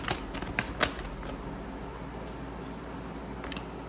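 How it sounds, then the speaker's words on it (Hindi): A deck of tarot cards is shuffled by hand close up, giving a few sharp riffling clicks at first and then a steady soft papery rustle. "first I will shuffle all the cards and then I will tell you"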